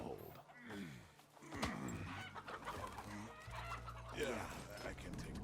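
Chickens clucking in the Desperados III western stealth game, a busy mix of fowl calls with occasional rooster-like cries layered over game music and ambience, with voices talking throughout.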